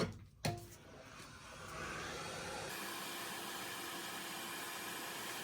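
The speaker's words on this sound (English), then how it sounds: "I'm gonna get my heat gun." A heat gun shrinks 1/16 inch shrink tubing on wiring during a 2020 BMW S1000RR fender eliminator and tail light install: a few brief clicks, then a loud, steady airy blowing hiss that holds to the end.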